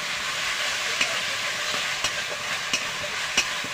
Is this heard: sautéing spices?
yes